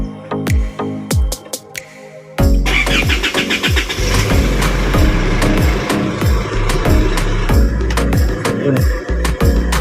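An Isuzu MU-X diesel, just cleared of an EGR malfunction fault code, cranks briefly and fires up, then settles into a loud, close, steady idle with a rhythmic knock after a few clicks and drips beforehand.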